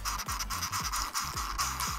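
A computer mouse scroll wheel turning with its lock engaged gives a steady run of small, close, dry ratcheting clicks and scratchy ticks over about two seconds, with no voices.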